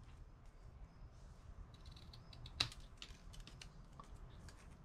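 Scissors snip through paper for a handmade bow on a paper purse gift bag. The cuts are soft and faint over quiet room noise, with one sharper click near the middle and scattered small snips.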